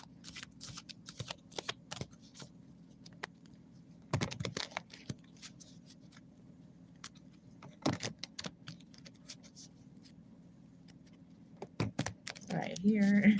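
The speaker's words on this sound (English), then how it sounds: "enjoy the shuffling" Playing cards being shuffled in several short, crisp riffling bursts separated by quiet pauses, close and fairly soft, with a faint low hum underneath.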